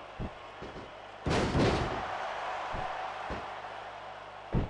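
A feather pillow strikes in WWE SmackDown vs RAW 2006, a broad soft whump that swells for about a second, with several short dull thuds spaced before and after it.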